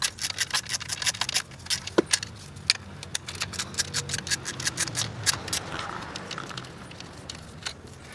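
A socket wrench loosens the 10mm ignition coil bolts on a BMW E46, producing rapid close ratcheting clicks in quick bursts with brief pauses between them.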